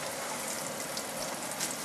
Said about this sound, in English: That's why I have my hot water running.